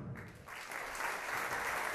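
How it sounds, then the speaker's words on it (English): Concert audience applauding the sound engineer, a steady wash of clapping that swells slightly and holds for the whole stretch, fairly distant and diffuse. "a round of applause for Barry, who's doing the sound"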